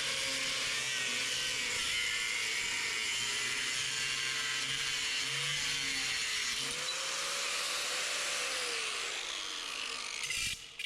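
A power drill with a 5/16-inch bit whines steadily in a shop, its pitch shifting as it works through material, then cuts off at the end.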